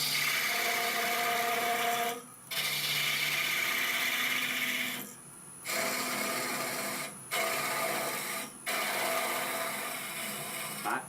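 Small gouge cutting wood on a lathe while turning a long-stemmed goblet, a steady rasping, chattering cut that runs loud and close, with brief pauses at several points as the tool lifts off.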